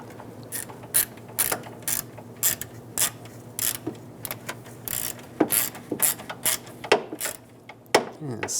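A ratchet tightens the bolts on the radiator cooling fan control module of a 2005–2010 Chrysler 300, giving close, repeated bursts of sharp clicking with short pauses between them.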